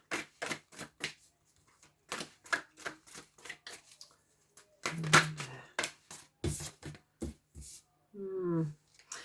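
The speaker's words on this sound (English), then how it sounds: "as I was shuffling there" Tarot cards being shuffled during a daily love and general reading, giving short, soft riffling bursts in a loose rhythm, close and quiet, with a few brief moments of voice between them.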